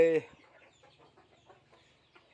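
A chicken lets out one loud, close cluck, followed by softer, fainter clucking and murmuring from other birds outside on a Thai farm.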